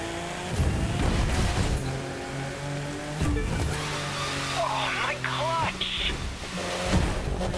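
A BMW Z4 M40i drifting in the racing game The Crew 2, its engine roaring loud and steady while tires squeal in rising, sliding bursts partway through.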